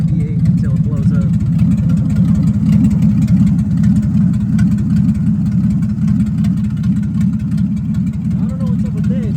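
A car engine idles after starting, a loud, close, steady low rumble with a slightly uneven pulse that holds throughout the clip.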